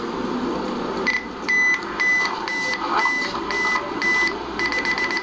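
A camera self-timer beeps in a steady run of short, evenly spaced electronic tones over a constant background hum, quickening into a tight burst of rapid beeps near the end, set for a night landscape shot.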